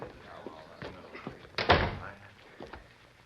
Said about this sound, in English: Open your office door.